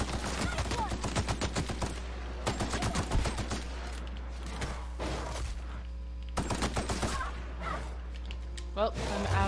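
Gunfire in the video game The Outer Worlds comes as repeated rapid bursts of shots separated by short pauses, loud and close throughout.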